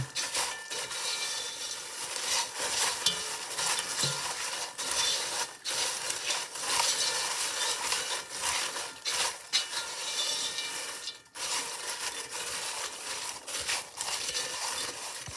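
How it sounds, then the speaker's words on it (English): Steady scraping and rustling of stirring popcorn with Oreo cookies in a bowl, continuous with brief pauses, close and fairly quiet. "put the Oreos in, and then you just mix them around."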